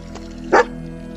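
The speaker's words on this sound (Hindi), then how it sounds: "यहाँ जरूर कोई जानवर होगा इसलिए भौंक रहा है ना" A dog gives one short, sharp bark at mid distance in hilly country, then falls silent against a low, steady background hum.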